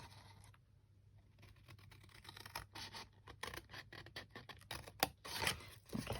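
Scissors snipping through card for a handmade desk calendar, faint at first, then a run of close crisp cuts and scrapes that grow louder near the end, with no speech.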